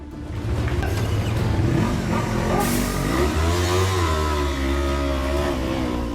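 Motorcycle engines rev loudly and roar away as riders flee police in Inegöl, Bursa, pitch rising and falling as they accelerate, with a rumbling undertone throughout.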